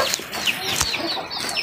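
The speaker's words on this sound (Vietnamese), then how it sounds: "Đây là con gà đen xương" A black-boned chicken clucks in a short run of close, fairly loud calls at a highland farm in northwest Vietnam, with faint background noise.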